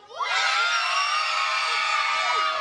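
Outdoor music-festival concert crowd, many of them children, cheering, whooping and shouting together in one loud, sustained burst after a short rise.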